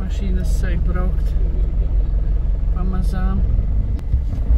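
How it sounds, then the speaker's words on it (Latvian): Cars pulling away in slow traffic at a traffic light, a steady low engine rumble close by, with people talking over it. "Mašīnas sāk braukt"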